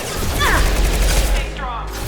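Gunfire in the video game Mass Effect 2: a rapid burst of weapon shots and impacts with heavy low rumble, loud and close, overlapping with a character's voice.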